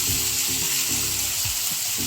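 Ginger garlic paste sizzles steadily in a hot pan, a continuous loud hiss with faint scraping stirs underneath and no voices.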